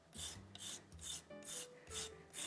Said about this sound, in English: we are going to zest one lemon first